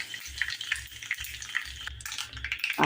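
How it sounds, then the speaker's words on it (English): Fresh curry leaves sizzle and crackle in hot oil with asafoetida on reduced flame, a steady close frying hiss with sharp pops throughout and a stir near the end. "Add the curry patta."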